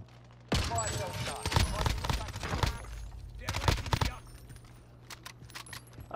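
Rapid automatic gunfire from the video game Call of Duty: Modern Warfare rattles out in two loud bursts, a long one followed by a shorter one, with voices talking faintly underneath.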